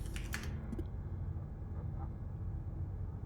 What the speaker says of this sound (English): So we'll type info